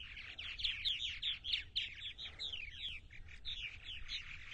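Purple martins chirp at their nests on eastern Long Island, New York, as parents bring insects to nestlings: a dense, continuous run of rapid, gurgling chirps and tweets, fairly close, with no talking.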